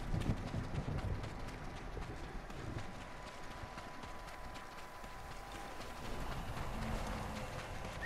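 A horse gallops in Ghost of Tsushima with a steady, rapid clip-clop of hooves, close and moderately loud, over a soft wash of ambient noise and no clear talking.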